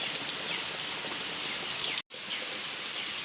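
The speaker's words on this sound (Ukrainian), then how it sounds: "У нас сьогодні знову дощик." Steady rain patters densely on a surface nearby, an even hiss throughout, broken only by a brief cut near the end.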